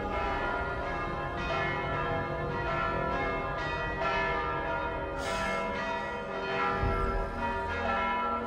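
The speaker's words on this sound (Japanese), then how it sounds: "鐘がうるさい" A church bell rings loudly and continuously in Assassin's Creed Valhalla, its rich tolling tones sustained and overlapping throughout, with no talking over it.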